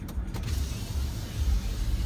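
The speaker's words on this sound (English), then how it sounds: "So power sliding rear window here." Power sliding rear window on a 2019 Chevrolet 3500 LTZ truck running its motor, a steady low mechanical whir with a brief creak at the start, heard alone inside the cab.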